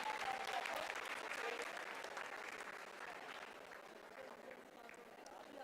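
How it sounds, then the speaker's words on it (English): Sustained applause fills mission control during the Chandrayaan-3 lunar soft landing, a broad steady wash of many hands clapping that slowly eases in strength, with voices murmuring underneath. "Lot of applause"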